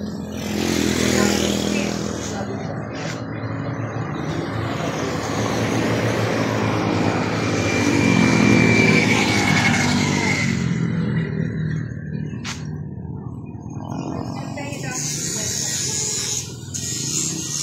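A motorcycle rides along with a steady, close engine drone and a rising, falling whine throughout, with brief sharp knocks near the end.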